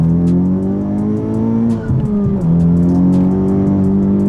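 Honda Civic Type R FK8 with rolling anti-lag, tuned to about 400 whp, pulling hard in second gear with a loud, steady harmonic engine drone that briefly dips and stutters over a road bump before climbing again, heard from inside the car.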